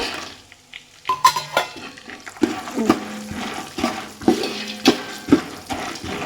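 Peanuts and chickpeas are stirred while roasting in a pan, giving repeated scraping and rattling strokes against the metal with a light sizzle underneath, close and fairly loud.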